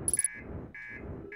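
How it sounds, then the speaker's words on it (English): An alarm in the video game Outer Wilds buzzes in short repeated electronic bursts, mid-loud, over a low rumbling background, and a few quick high beeps come first. "Alright, well, that stopped the alarm."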